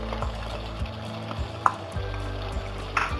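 Tomato puree hitting a hot pan of spiced oil with cardamom, a steady close sizzle broken by a few soft stirring scrapes and clinks.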